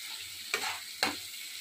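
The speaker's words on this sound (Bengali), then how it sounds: "তো মশলাটা ভেজে দিই" Ginger garlic paste, cumin and spices frying in a pan, with two short scraping stir strokes over a steady background sizzle.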